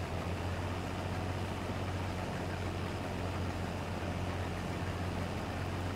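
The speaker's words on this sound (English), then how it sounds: "And we've got Matt is here on this tractor" A tractor engine in the video game Farming Simulator 22 idles with a steady low drone and hum, unchanging and fairly faint throughout, with no talking.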